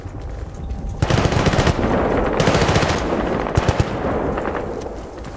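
Rapid machine-gun bursts and crackling gunfire in the Battlefield Bad Company 2 video game, loud and dense, coming in several sustained volleys with short gaps, with no voices.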